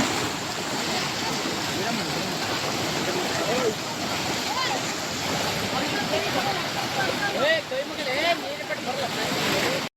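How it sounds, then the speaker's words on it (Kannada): Water from a broken cement irrigation canal rushes in a steady, loud broadband roar that fills the whole stretch, with faint voices buried beneath it. "ಕಾಲುವೆ ಮುರಿದು ಬಿದ್ದು ಕಾಲುವೆ ನೀರು ಪೋಲಾಗ್ತಾ ಇದೆ"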